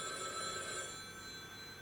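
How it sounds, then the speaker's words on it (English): A telephone bell rings steadily in the background of a scene from the web series Carmilla, a continuous electronic trill at moderate distance with no voices over it. "How is there a telephone ringing?"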